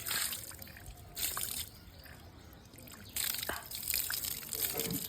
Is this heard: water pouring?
yes